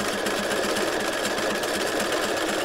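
A sewing machine runs steadily while stitching concentric circles with one repeated stitch selection, giving a loud, continuous mechanical whir with a fast regular pulse and no pause, heard alone without voices.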